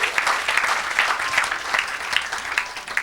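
Congregation applauding during a church service, a steady wash of clapping with rhythmic surges throughout, fairly close and full.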